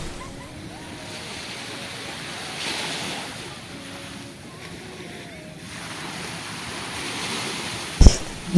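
Sea waves wash steadily onto a beach with a constant rushing roar and some wind, while faint voices are heard now and then and a sharp knock comes near the end.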